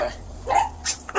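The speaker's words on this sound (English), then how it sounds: "They just make bark." A dog gives a few short, sharp barks and yips close by, spaced irregularly over about a second against a low background hum.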